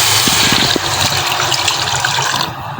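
Besan lassi is poured gently into a cooking pot for kadhi pakora, a continuous close splashing and gushing of liquid with no talk.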